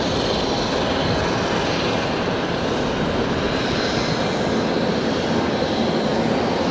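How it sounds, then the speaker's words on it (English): Rex airliner departing Brisbane Airport, a loud, steady broadband engine roar with a sustained rushing quality throughout and no talking. "So I think this is the final Rex departure of the afternoon."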